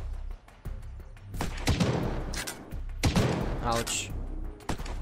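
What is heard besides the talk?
gunshots in Unturned video game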